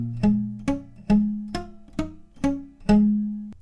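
Seven short, palm-muted guitar string hits in a steady rhythm, each a dull thump that dies away quickly, with no voices.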